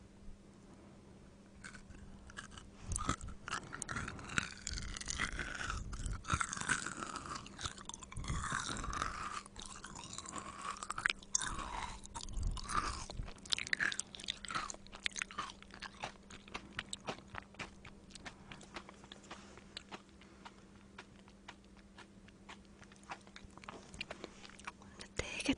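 Kuhakuto snack is bitten and chewed up close in an eating session, with crisp crunches and wet chewing repeating irregularly throughout, loud and intimate against a quiet background.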